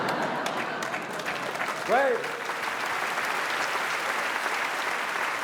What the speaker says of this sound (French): À voir les applaudissements